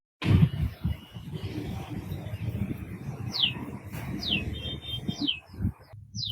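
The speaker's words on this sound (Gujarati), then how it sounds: "ચકલી" Bird chirps, small and fairly near, repeat as three or four quick high calls in the second half of the clip over a low background rumble, with no speech.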